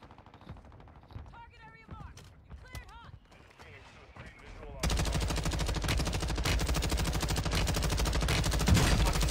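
Sustained light machine gun fire in the Call of Duty Warzone 2.0 video game, a loud continuous burst lasting several seconds that follows a stretch of shouted team talk and scattered shots.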